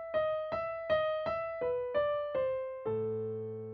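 Eight piano notes are struck one after another at an even pace, each left ringing and decaying into the next as though the pedal is held. The final lower chord sustains.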